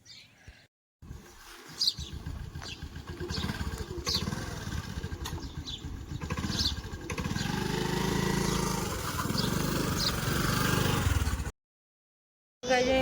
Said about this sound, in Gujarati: ચાલો આપણી એક્ટિવા લઈને જઈએ